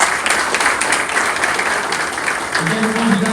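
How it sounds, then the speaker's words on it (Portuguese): A round of applause during an inauguration speech for the president of the CBDE, a loud dense clapping wash that carries on throughout, with a low voice or hum rising near the end. "eu quero uma salva de palmas"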